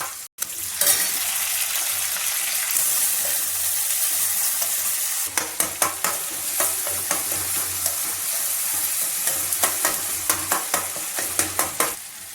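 Tomatoes and onions sauté in a pan for a South Indian brinjal kara kuzhambu, giving a steady close sizzle. From midway, a spatula stirs and scrapes against the pan in repeated sharp clinks, with no talking.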